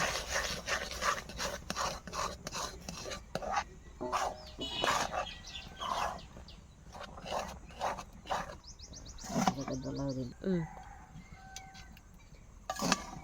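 Wheat flour is stirred into hot water in a pot to form dough for kuli pitha, producing irregular rubbing and scraping strokes that come in bursts with short pauses.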